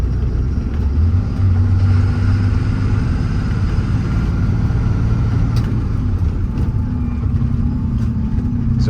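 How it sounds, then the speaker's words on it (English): A 2022 Kenworth T270 mechanics truck with 103k miles runs its exhaust brake, a loud, close, steady low engine drone with rough rumbling that holds for several seconds. "Exhaust brake works nicely."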